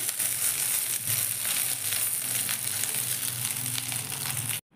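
Poha and rava snack roasting in a pan, a steady close sizzle and crackle that runs evenly for several seconds and then cuts off abruptly.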